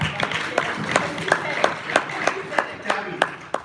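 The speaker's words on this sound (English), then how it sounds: "Can we get a round of applause for" Audience clapping at a political forum, a steady patter of hand claps with sharper peaks spaced through the clip, moderately close and without talk over it.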